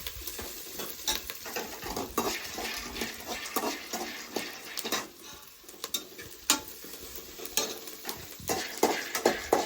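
Peanuts being stirred in a pan over an outdoor village stove, a continuous close rattle and scrape of nuts and spoon against metal with frequent sharp clicks, steady and busy throughout with no talk.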